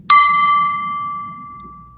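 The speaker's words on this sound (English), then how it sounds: "Ring the gong. I'm gonna ding it." A single struck gong or bell-like ding rings out loudly, then sustains a long, clear, slowly fading tone, with faint background murmur beneath it.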